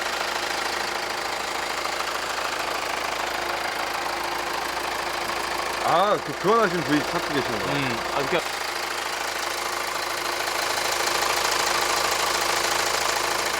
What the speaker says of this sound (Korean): 엔진 소리는 뭐 전형적이고요